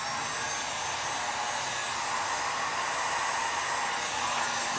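A heat gun blows a steady, even whooshing roar with no breaks while shrinking heat-shrink tubing over stereo wiring in an 80s Land Cruiser, close and constant.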